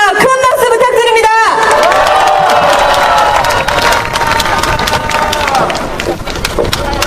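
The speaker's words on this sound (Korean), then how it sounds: "큰 박수 부탁드립니다" A large crowd at an outdoor protest rally in Seoul applauds and cheers, loud and sustained, with shouts and a brief voice at the start, then a dense roar of clapping and whoops.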